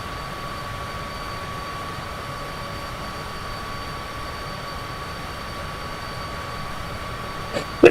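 A Cessna engine drones steadily during a climb in Microsoft Flight Simulator 2024, an even, continuous hum with a faint tonal whine throughout and a small click at the end.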